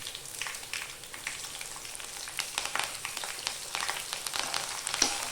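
Green chillies and curry leaves sizzle in hot oil with fried onions while making pappadam roast, a soft steady crackle with scattered sharp pops, close and alone with no talk.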